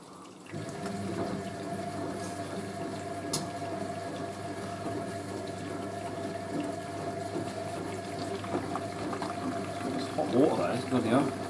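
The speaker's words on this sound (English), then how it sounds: "Just lets water trickle through." Hot water trickles and hisses gently into a Hoover A3060 Electronic 1100 washing machine as it fills, a soft, continuous wash of sound, with a brief clatter near the end.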